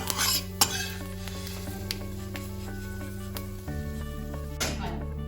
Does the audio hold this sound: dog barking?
no